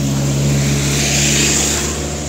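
A car passes on the Lonavala ghat road during heavy rain, a steady engine rumble over a constant wash of rain and road noise, fairly loud and close throughout, with no voices.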